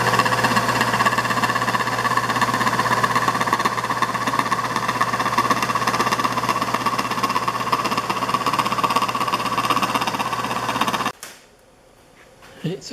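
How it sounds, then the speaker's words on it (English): A milling machine cuts a flat on a router base with a loud, steady, rattling and chattering grind for about eleven seconds, then stops abruptly, leaving quiet room sound. "I decided to just throw it on the milling machine to mill that"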